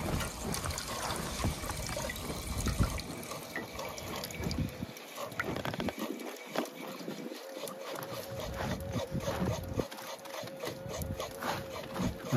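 An OPOSOAP solar water pump fountain splashing water, a continuous close trickling and spattering with a thin steady hum from the pump running underneath.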